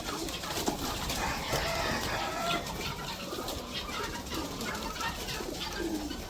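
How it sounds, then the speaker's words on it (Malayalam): Fancy crested, heavily feathered variety pigeons coo in a pair of cages on a farm, a dense, continuous murmur of many birds close by with occasional wing flutters, over steady background noise. "ഈ രണ്ട് രണ്ട് കൂട്ടിലും പ്രാവുകളാണ്"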